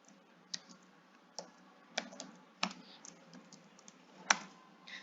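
Code being typed on a computer keyboard, a quiet, irregular run of soft key clicks with a few sharper taps, close by and with no voices.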